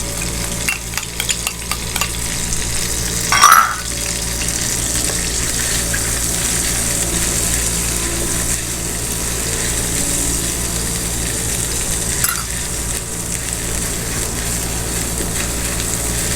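Garlic and ginger paste frying in melted butter in a pan, a steady close sizzle with stirring scrapes and a brief louder clatter early on, with no voices.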